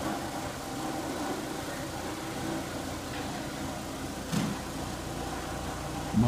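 A Freedom floor machine burnishing dirty VCT tile with a white pad, a steady low motor drone with a continuous whirring hum, close and even, a brief bump near the end.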